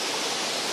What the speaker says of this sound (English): shoot straight up the waterfall, have the water crashing down onto the rocks down below